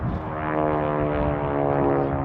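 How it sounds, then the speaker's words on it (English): A steady, droning propeller plane engine flying overhead, with a rich harmonic hum, holds at a constant loud level throughout, with no voices. "Man doing some tricks in his airplanes."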